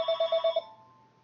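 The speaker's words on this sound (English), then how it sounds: "Apologize for the phone ringing." A telephone bell rings in a quick burst of about five rapid trills, fairly faint and alone, then fades out with a short ringing decay.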